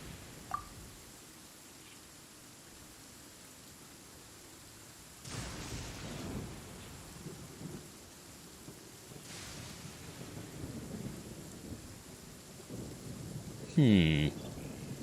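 Rain falls in the video game Genshin Impact, a soft, steady patter with low rumbling swells partway through and a short tonal chime near the end.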